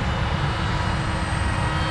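An R/C MIG-X1 model jet engine idles at very low throttle, a steady loud close whooshing roar with a broad rumble, unbroken for the whole stretch and without voices.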